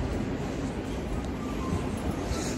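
An Avanti West Coast train at London Euston station, a low, steady rumble with a faint high hiss, heard as continuous station ambience with no voices.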